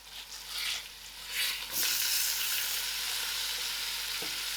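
Cabbage with masalas frying in a pan, a loud close sizzle with a few stirring scrapes in the first seconds, then a steady crackling hiss throughout.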